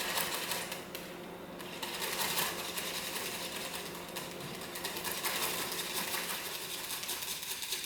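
A whisk beats a thickening lime and lemon butter mixture in a bowl, giving a rapid, steady, fairly quiet rattle of clicking and tapping that carries on unbroken throughout.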